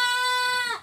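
A goat on a goat farm gives one loud, close, steady bleat while being milked, trailing off at the end.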